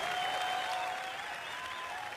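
Steady crowd applause from an audience at a Spanish-language community television program, dense and even throughout, with a faint tonal line running beneath and no voices.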